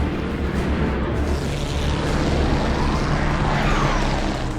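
Messerschmitt Me 262 fighter jets fly past as a steady, loud roar of jet engines with a broad rushing hiss that holds constant throughout, with no speech over it.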